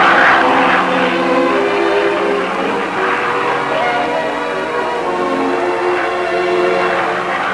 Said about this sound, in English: Gliding past rugged snowcaps, the plane gradually climbs to the elevation required for the particular photographic information it must obtain.